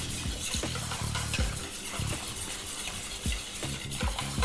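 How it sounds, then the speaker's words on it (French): Milk, lemon juice and cream are stirred together into a smooth batter for a mascarpone-style cream, producing soft repeated scraping and sloshing strokes in a quiet rhythmic pattern, with faint clinks from the utensil against the bowl. "Donc on mélange le tout."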